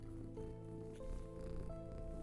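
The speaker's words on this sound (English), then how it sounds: "he begins to purr softly" A cat purrs softly and close by, a low, steady rumble with an even pulsing texture that continues unbroken throughout.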